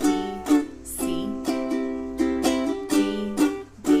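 Strummed ukulele chords ring out in a steady rhythm, about two strums per second, bright and close, each chord sustaining briefly before the next.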